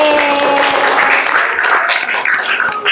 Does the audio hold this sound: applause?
yes